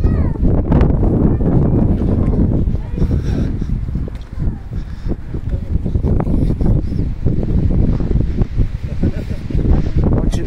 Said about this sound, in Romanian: Aici bate un pic vântul, suntem în teren deschis.